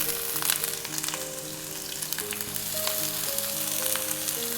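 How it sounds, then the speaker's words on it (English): Chopped shallots sizzle and fry steadily in hot oil for a squid masala, a loud, continuous crackling hiss close by with no talking. "Into it, let's drop in our chopped shallots."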